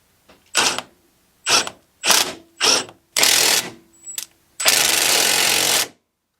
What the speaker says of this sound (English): let's get all of these tightened back up